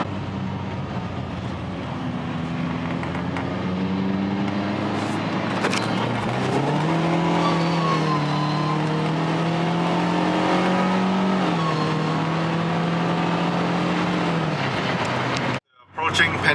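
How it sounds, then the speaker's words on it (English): Car driving on the road toward a car meet, a continuous engine hum from inside the cabin that rises and holds in pitch as it accelerates, with someone talking over it, ending in an abrupt cutoff. "right now we are driving to the meet"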